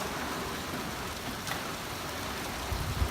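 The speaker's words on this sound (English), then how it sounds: "You can see the rain is coming down pretty hard now." Heavy rain from Hurricane Irma pours down steadily outdoors in a residential neighborhood, a dense, continuous hiss of water on surfaces with no voices over it.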